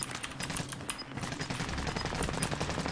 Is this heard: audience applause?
no